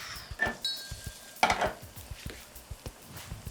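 Onions and jalapenos cooking in a pan, a soft sizzle broken by scraping stirs and light clinks of a utensil against the pan, close and fairly quiet.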